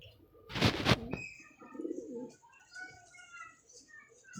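Pigeons coo in low, soft, repeated phrases close by, with a brief burst of flapping or handling noise near the start and a faint voice nearby.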